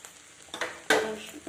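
Food fries in a pan at home, heard as quiet, scattered bursts of sizzle and a few stirring scrapes and clinks rather than a continuous hiss.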